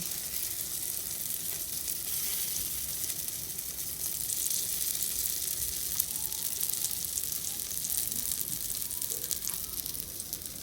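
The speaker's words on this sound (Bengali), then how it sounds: "গ্যাসের ফ্লেমটা লো টু মিডিয়ামে রেখে আমি এটাকে খুব ভালোভাবে সেঁকে নেব" A rice starch mixture sizzles in a pan over a low-medium gas flame, a steady, even frying hiss that holds for the whole stretch with no talking.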